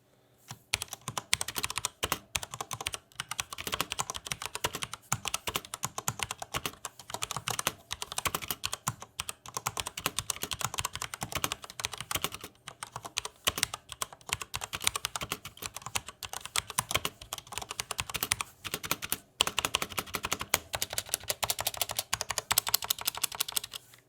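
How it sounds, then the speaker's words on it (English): Steady, rapid typing on an MSI Vigor GK80 mechanical keyboard with MX Red switches, crisp clacky keystrokes in a continuous stream, close and fairly loud, with no talking. "here's just a quick sound test of how the GK80's MX Raid switches sounds"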